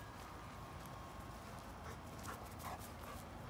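A chocolate Labrador dog pants quickly and softly during a training session, a faint continuous breathy rhythm close by against low background noise, with no talk.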